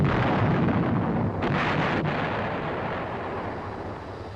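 An M551 Sheridan armored reconnaissance vehicle fires its main gun, a single loud, close blast at about 1.4 seconds that rolls on into a long, sustained rumble and reverberation.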